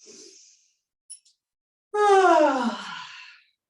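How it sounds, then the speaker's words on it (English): A close voice yawns once, a drawn-out breathy sound that rises and falls, after a quiet breath at the start. "Give yourself a yawn."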